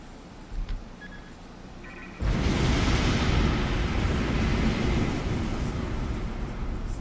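In the Bad Foundry game, a torpedo strikes with a sudden heavy explosion after a few quiet moments, swelling into a long, loud, rumbling roar that keeps going without fading.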